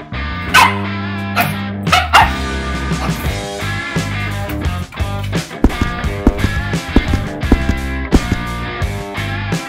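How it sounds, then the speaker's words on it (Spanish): A dog barks repeatedly and loudly up close in a rapid series of barks and yips, with no talking. "¿Por qué ladras tanto?"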